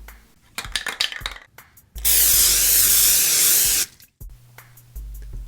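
Black spray primer hissing onto a Nerf gun being built into a dragon: rattling can-shake clicks first, then a loud steady spray burst of about two seconds, close up, followed by a few light knocks.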